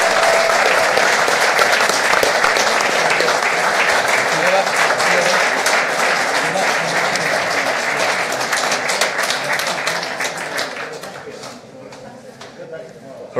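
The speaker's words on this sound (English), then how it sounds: "Give them a big round of applause." Audience applause at an All England badminton reception honouring players Lin Dan and Lee Chong Wei, a dense sustained clapping from a crowd that thins and fades toward the end.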